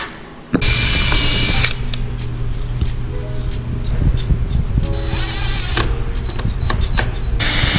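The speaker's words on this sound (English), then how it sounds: "So I'm gonna get to drilling holes in the bumper right now." A power drill whines loudly in several bursts, drilling holes in a car bumper on an M3, starting and stopping, with scraping and clatter between runs close by.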